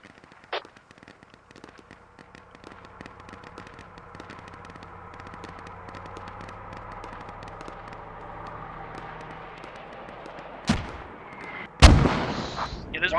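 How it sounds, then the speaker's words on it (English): Mortar rounds burst in the military shooter Squad, two sharp booming impacts landing late and close together after a long stretch of low rumbling battlefield ambience and scattered distant gunfire. "More mortars."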